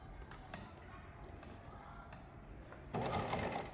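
Sewing machine stitching a backpack seam guided along the presser foot, faint and close, with soft rhythmic needle ticks that give way to a louder, denser whirr of fast stitching near the end.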